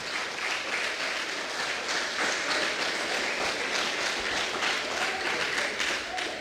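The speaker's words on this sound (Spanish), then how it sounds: "Y demos los aplausos para Cristo." A church congregation applauds steadily, a dense, even wash of clapping hands sustained through the whole stretch with no voices standing out.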